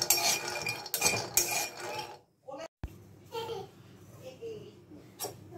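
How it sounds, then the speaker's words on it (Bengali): Almonds are dry roasted in a pan at home, with utensil scrapes and clinks of cutlery against cookware. Stirring noises come in bursts, close up, with a brief quiet gap in the middle and a voice faintly in the background. "এবার এটাকেও একটু ভালো মতন ড্রাই রোস্ট করে নিতে হবে।"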